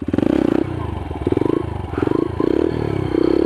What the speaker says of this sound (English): I'm gonna wheelie into my garage. First gear, feet on the ground.